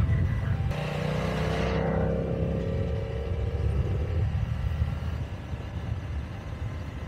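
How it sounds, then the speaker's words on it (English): A 2020 BMW F900R motorcycle rides along a winding rural road, its engine a steady drone blended with rushing wind noise, continuous and fairly close with no talking. "Let you guys hear the bike, see it in its environment"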